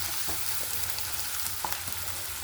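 Ingredients sauté and sizzle steadily in a hot pan, a continuous frying hiss with a few faint stirring clinks, close and even throughout, with no talking.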